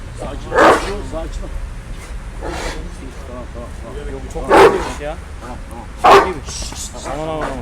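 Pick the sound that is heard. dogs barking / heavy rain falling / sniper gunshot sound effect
dogs barking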